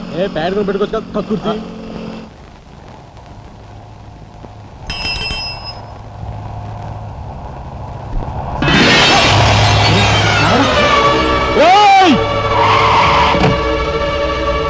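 A car skids with a loud, sustained tyre screech in the second half, rising and bending in pitch, after an earlier stretch of engine noise and a brief bell-like ring, with voices mixed in.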